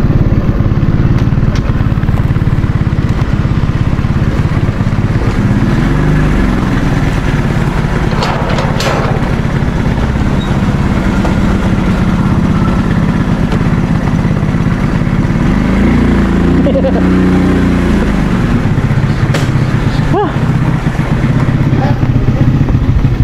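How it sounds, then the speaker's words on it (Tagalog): Single motorcycle weaving through a busy public market in Barotac, its engine running steadily and close throughout, with crowd bustle, clatter and occasional voices around it. "Ganito pag single na motor yung gamit natin eh."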